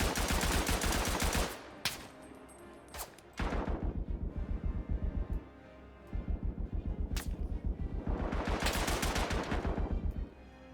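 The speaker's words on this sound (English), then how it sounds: "If you're gonna get on the bloody machine gun, pull the bloody trigger and fire." Machine gun fire rattles in the World War I shooter game Tannenberg, with long, loud, rapid bursts broken by brief pauses and a few sharp single shots, and no talking.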